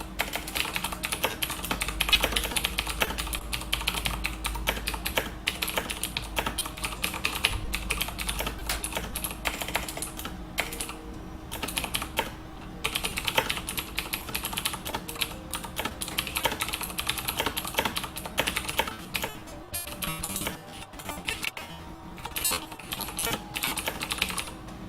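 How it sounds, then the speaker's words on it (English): Steady, continuous typing on a computer keyboard during an online tabletop role-playing session, with dense rapid clicks that run without a break and no voices. "Wow, Cypher, even your keyboard sounds robotic."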